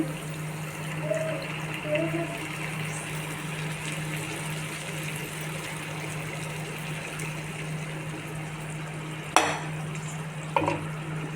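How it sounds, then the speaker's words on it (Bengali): Hot water pours into a pot of rice with a steady, continuous rush and a low hum underneath. Near the end, a couple of sharp clunks from the pot break through. "এবার গরম জলটা দিয়ে দেবো ওর মধ্যে।"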